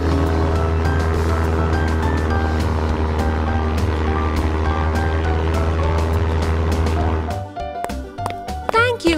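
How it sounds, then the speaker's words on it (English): A cartoon airplane flying in a children's nursery rhyme show: a loud, steady droning engine hum that holds for several seconds, then gives way to music and bright chimes near the end. "I will fly this airplane."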